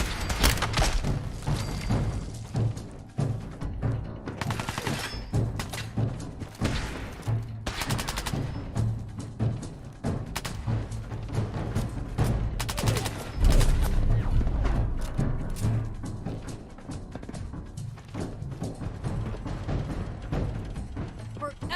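Heavy gunfire in Fallout 4 rattles on throughout, dense bursts and volleys layered over a low rumbling battle bed, with mechanical clanks mixed in.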